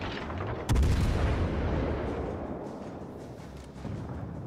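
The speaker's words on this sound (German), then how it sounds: "Schieß mal einfach nochmal auf sie" Naval artillery in the World of Warships Legends video game, the Soviet Tier 8 cruiser Petropavlovsk firing: one heavy, booming salvo that rolls off into a long fading rumble.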